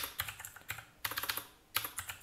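Rapid clicking keystrokes on a computer keyboard, arriving in quick clustered bursts with brief pauses between them, close and fairly quiet with no voices.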